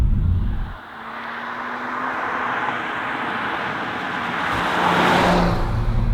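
A 2023 BMW M340i LCI's straight-six engine, heard from inside while driving, a steady loud drone that swells as it pulls harder near the end, with no talking.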